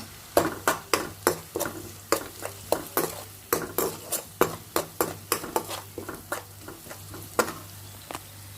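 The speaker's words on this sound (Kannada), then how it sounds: "ಮಸಾಲೆ ಖಾರ ಹಾಕ್ತೇನೆ ನೋಡ್ರಿ ಮಸ್ತ್ ಆಕೈತಿ ಒಗ್ಗರಣೆ" Spices and chilli powder crackle in hot oil for an oggarane tempering, with a steady run of sharp ladle-on-pan clanks and scrapes over a low hum, close and fairly loud, no voices.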